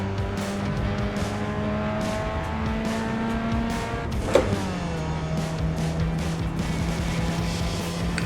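A Mazda Miata race car in the iRacing simulator runs off track through grass during a yellow-flag caution, its engine droning steadily with a brief sharp knock midway and the pitch dropping afterward.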